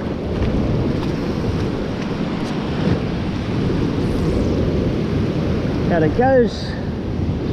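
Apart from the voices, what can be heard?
white water waves and wind at the shore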